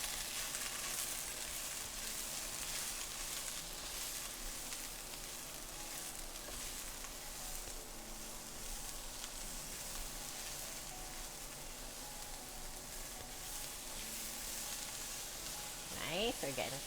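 Shanghai stir-fry noodles sizzle steadily in a hot pan as they are stirred, a continuous close frying hiss with faint scraping, and a brief voice near the end.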